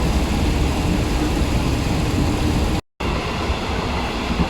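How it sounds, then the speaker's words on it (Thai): Steady, loud rumble and rattle of a moving passenger train cabin on a trip to Bang Saen, Thailand, broadband and continuous, with a brief dropout partway through; no talking. "ได้ขึ้นรถไฟเป็นที่เรียบร้อยแล้ว"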